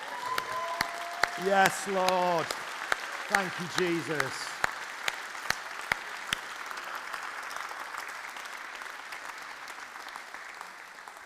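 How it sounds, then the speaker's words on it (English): A church congregation applauds in a steady, dense clatter, with a few voices calling out over the clapping before it gradually thins and fades. "Let's give the Lord a round of applause."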